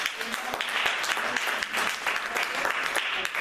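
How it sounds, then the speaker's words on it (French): Congregation in a church service applauding together, a dense continuous patter of many hands clapping at steady loudness, with voices mixed in. "j'aimerais qu'on acclame le Seigneur pour sa vie"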